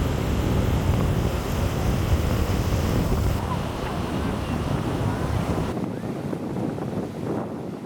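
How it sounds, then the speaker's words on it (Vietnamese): Ocean waves at Robinson beach on Quan Lan Island, Vietnam, a continuous broad roar of surf heavily mixed with wind buffeting the microphone, loud throughout and easing slightly toward the end. "Sóng ở đây to hơn bãi Minh Châu, mang lại cảm giác mạnh mẽ và vô cùng phấn khích."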